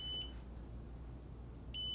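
Two short, high electronic beeps from an electronic chess board, one at the start and one near the end, over a quiet low hum.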